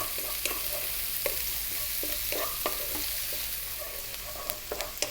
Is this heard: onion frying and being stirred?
yes